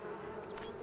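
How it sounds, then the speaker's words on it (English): Bees buzz steadily in a continuous droning hum, close and moderately loud, without a break for under a second. "there's our bees"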